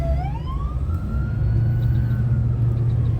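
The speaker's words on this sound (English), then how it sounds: "Ambulance behind us too." An ambulance siren wails in city traffic, its rising tone sweeping upward over a steady low rumble of engines, fairly close and continuous with no talking.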